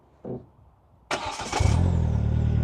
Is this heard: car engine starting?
yes